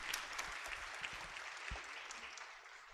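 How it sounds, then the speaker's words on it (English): An audience at a Kenyan National Treasury event claps for a young student speaker, a soft, steady patter of many hands heard from a distance, with a few sharper individual claps standing out. "let's clap for her"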